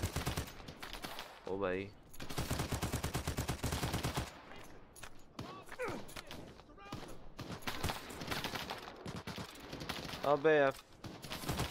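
Gunfire in the Lost Light shooter, loud bursts of automatic fire and scattered single shots in several runs, with a player talking excitedly between and over them.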